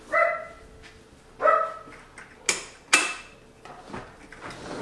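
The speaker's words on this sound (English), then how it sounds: "There's some other dogs barking out there." Several dogs bark outside, a handful of sharp separate barks and yips at irregular intervals, moderately close and fairly loud, with quiet gaps between them and no talking.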